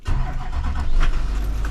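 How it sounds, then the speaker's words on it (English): A 2008 Duramax diesel pickup truck starts up nearby: a brief cranking burst settles into a loud, low, steady idle rumble within under two seconds. "Firing up the old rig, 2008 Duramax."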